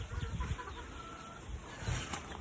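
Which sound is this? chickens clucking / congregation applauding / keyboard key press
chickens clucking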